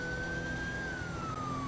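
An emergency vehicle siren in the GTA RP video game holds a long high tone that slowly glides downward, loud and steady over a rumbling vehicle background.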